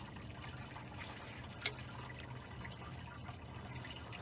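Coolant drains from a disconnected lower radiator hose on a Ford F100 during a water pump replacement, a faint steady trickle with one brief sharp tick, no talking.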